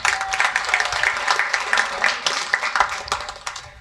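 A comedy special audience claps in a dense, sustained burst of many hands that carries steadily through the whole stretch, with no talking over it.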